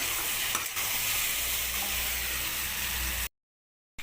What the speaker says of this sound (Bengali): দিয়ে দেবো 4-5টা কাঁচা লঙ্কা, দিয়ে সুন্দর করে সবজিটাকে কষিয়ে নেব।